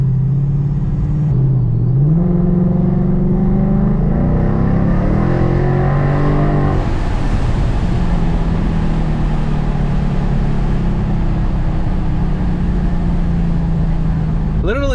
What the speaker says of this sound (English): So right now we're gonna go ahead and take it out for a test drive.